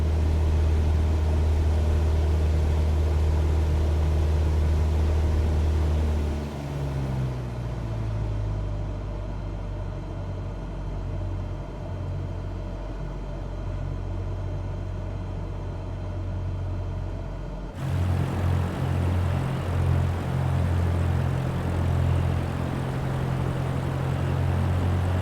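A Cessna 172 piston engine in Microsoft Flight Simulator 2024 hums steadily, then drops in pitch and loudness as the throttle is pulled back, before surging louder again near the end.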